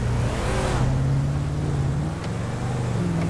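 A Hyundai Alcazar engine in GTA 5 revs up and climbs in pitch through its gears, a steady droning hum that stays up close and alone.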